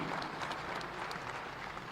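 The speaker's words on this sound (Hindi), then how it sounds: "जोरदार तालियां" Applause from a crowd welcoming guests at a Chhattisgarh government event launching a groundwater mission, a steady dense clapping wash held at an even level throughout.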